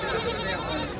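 Goats bleat amid busy background chatter at a weekly Tuesday goat market in Kadiri, a short, wavering cry heard at moderate volume under surrounding voices.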